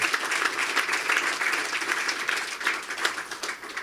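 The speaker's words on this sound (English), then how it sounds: "Can we give him another just round of applause for that," An audience at a tribute to mayors bursts into steady, dense applause, a continuous wash of many hands clapping that fades slightly at the end.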